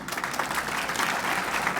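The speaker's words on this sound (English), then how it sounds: "just a round of applause for our veterans who" A room full of people at a chamber of commerce awards reception applauds veterans, steady dense clapping throughout at a moderate level.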